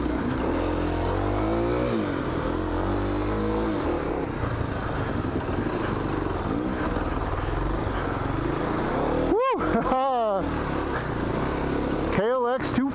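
A Kawasaki KLX 250 dirt bike ridden along single track, its single-cylinder engine droning steadily with rising and falling revs and a few sharp revving surges near the end, up close and continuous.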